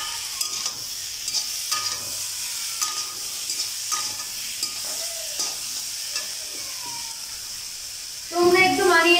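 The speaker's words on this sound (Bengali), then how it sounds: "নুন দিয়ে নিলাম, নিয়ে আবার সবজিটাকে ভাজবো।" Vegetables frying and being stirred in a pan, a steady hissing sizzle with scraping and stirring knocks throughout, growing louder near the end; no talk over it.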